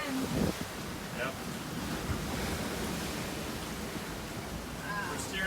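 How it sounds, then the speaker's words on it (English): Ocean waves and wind buffeting a sailboat on an open-water passage from Hawaii to Alaska, a continuous loud wash of surf and gusting wind noise with a few sharper splashes and no talk. "We're steering a little down from our course just because of the waves here."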